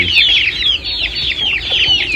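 An Aseel hen clucks repeatedly in quick, chattering bursts, close and fairly loud, with no talking.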